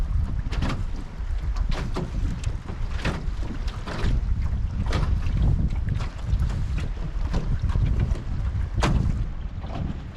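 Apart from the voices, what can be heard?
outrigger sailing canoe moving through water in wind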